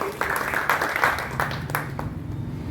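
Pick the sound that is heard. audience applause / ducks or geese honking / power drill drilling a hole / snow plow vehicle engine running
audience applause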